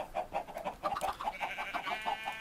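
Minecraft chickens clucking in the video game, a run of short, evenly spaced clucks close by with no talk over them.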